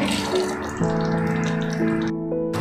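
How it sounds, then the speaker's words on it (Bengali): Yogurt water poured over frying spices for chicken kofta, a steady gushing pour with hissing sizzle, then a brief tonal ringing as it settles, close and loud with no talking. "পানিটা ঢেলে দিব উপর দিয়ে।"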